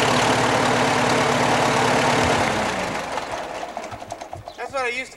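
A 1951 farm tractor engine runs with a steady low, throbbing idle that fades after a few seconds, while people talk nearby.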